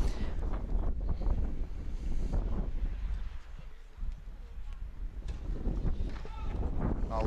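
Strong wind gusts buffet the microphone at an outdoor Davis Cup tennis match, a rough, low rumble that rises and falls, with a commentator talking over it.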